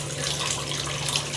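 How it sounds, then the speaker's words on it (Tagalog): Water pours steadily and strongly from an old hotel bathroom faucet, a continuous close hiss with a faint low hum beneath and no pauses. "Maganda pa rin naman yung agos ng tubig, malakas."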